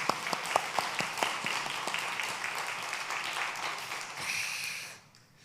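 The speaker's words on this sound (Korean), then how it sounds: "오늘도 정말 아름다운 찬양을 들려주신 우리 찬양대회에 박수 한번 하도록 하십시오" A church congregation gives the choir a round of applause, a dense burst of clapping close by that carries on for about four seconds, then quickly fades to near silence.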